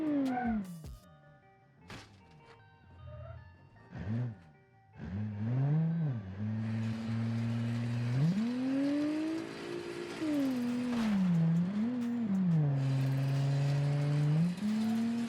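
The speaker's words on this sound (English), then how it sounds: "Turning on the engine." A 1990s police car engine cranks with a few starter clicks, catches, then settles and revs up and down in long swells, close and steady with no talking.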